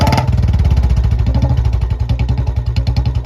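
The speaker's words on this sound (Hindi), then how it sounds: "साइलेंसर यहाँ पे खूब अच्छे से वाइल्ड हो रखा है इसका, बहुत ज़्यादा ये साउंड कर रहा है" A Royal Enfield Bullet 350 with a short bottle silencer and C-bend pipe thumps loudly at idle nearby, a fast, even, deep single-cylinder beat pulsing steadily with no pause.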